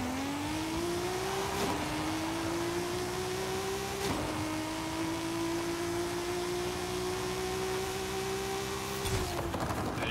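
A Datsun 240Z doing a drag launch in Forza Horizon 5, held at 2K revs with e-brake and gas; a steady engine drone rises and climbs through several gear changes, under a constant noisy hiss, with no talking.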